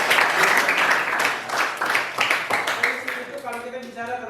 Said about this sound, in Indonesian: kita kasih tepuk tangan untuk teman-teman